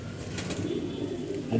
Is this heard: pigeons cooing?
yes